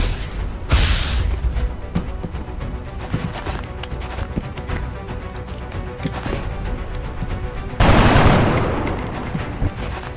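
Gunfire in the turn-based tactics game XCOM Enemy Within, Long War mod, peppers a soldier with a flurry of rapid impacts and cracks, ending in a heavier loud burst over a dense battle backdrop.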